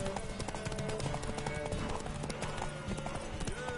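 Horse hooves clatter in a fast, steady galloping rhythm in The Witcher 3, with music and game ambience layered underneath and faint voices.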